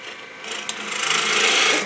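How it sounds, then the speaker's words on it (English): A round nose scraper cuts across the bottom of a wooden bowl spinning on a lathe, a close, steady rasping scrape that swells slightly louder over about two seconds. "instead of using the bowl gouge, I like going to the scraper for doing the bottom of these bowls"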